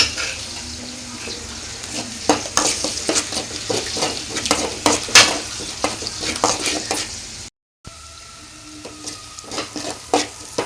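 Three torn parottas and three cracked eggs fry in a hot pan for kothu parotta, the sizzle broken by rapid, uneven metal scrapes and clanks of stirring. A brief dropout interrupts the sound partway through.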